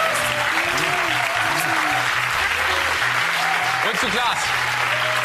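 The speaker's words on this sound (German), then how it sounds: "Ich sage an dieser Stelle erstmal einen großen Applaus." Sustained loud studio audience applause and clapping on a German TV show fills the whole stretch, with someone speaking briefly over it.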